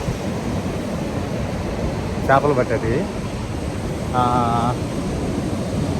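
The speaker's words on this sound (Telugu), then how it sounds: "నిజంగా చూడండి సముద్రం" Sea waves wash steadily at Mypadu beach, a broad, constant surf rush mixed with wind as people talk briefly over it.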